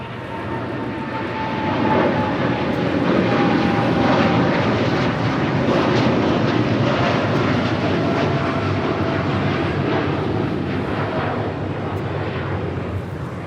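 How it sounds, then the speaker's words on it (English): A Singapore Airlines Boeing 777-300ER pushes back at LAX, a steady rumbling jet engine drone with a faint whine that rises after two seconds and holds at moderate distance, with no talk. "the Singapore Airlines 777-300ER now pushing back"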